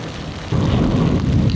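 Rain roars steadily during a motorbike ride, a dense rushing wash that swells louder partway through and stays close and continuous.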